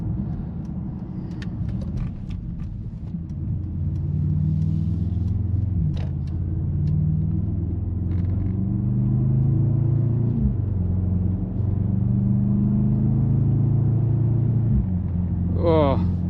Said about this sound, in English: Oh, the V8 is just a throaty sound experience.